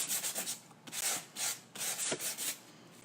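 Repeated rubbing strokes of an old sandpaper block across a ceramic piece being prepared for embossing, a steady back-and-forth rasp in bursts of roughly half a second, close and fairly soft with no voice.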